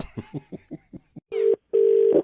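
A telephone is dialed: a quick series of short tone beeps, followed by two longer ringback tones, close and clear with no talk over them.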